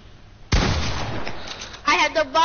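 Gunfire in an online multiplayer shooter game, a sudden loud burst followed by sustained rattling shots, with excited players talking over it.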